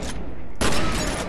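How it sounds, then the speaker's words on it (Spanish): Shotgun blasts in the video game F.E.A.R., a sharp broadband burst near the start and another loud report midway, with dense gunfire texture throughout. "Tengo la escopeta porque pienso que es lo mejor."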